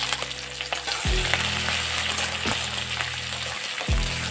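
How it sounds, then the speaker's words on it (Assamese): Onions hit hot oil in a kadai and sizzle loudly, with the frying hiss surging each time they are stirred, about three stirring bursts over a constant crackle, close up with no talking. "কেৰাহী গৰম হৈছে, তেল দি দিলোঁ, পিঁয়াজ দি দিলোঁ।"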